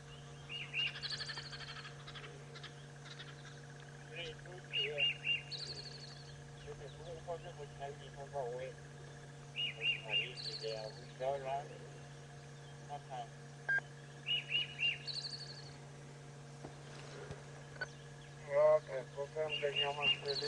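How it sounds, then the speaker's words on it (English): A robin's song plays back from a recording during a sunrise safari drive, repeating short bright whistled phrases every few seconds over a steady low hum, faint and a little distant, with no talk. "Now I will play you what the robin sounds like."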